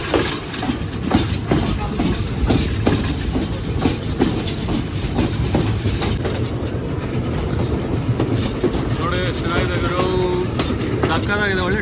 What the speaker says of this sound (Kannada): ಟಾಯ್ ಟ್ರೈನೇ ಇದು ಇರೋದೇ ಮೂರು ಬೋಗಿ